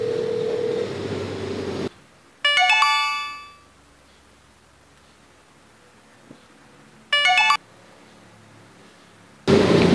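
A phone rings for an incoming call with two short electronic ringtone bursts of bright chiming tones, separated by a few seconds of near silence, loud and close, with no talking.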